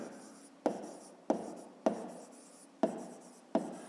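Pen or chalk writing by hand during a fifth-grade maths lesson on a rectangle's perimeter, five separate scratchy strokes at a steady rhythm, each starting sharply and trailing off, close and quiet with no talking.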